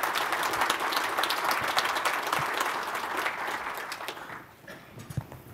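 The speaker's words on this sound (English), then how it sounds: "let's give Sophia a round of applause for joining us today." Audience applause at the CES Government 2019 conference opening session, a full, dense wash of clapping that holds steady for several seconds before thinning out and fading to scattered claps.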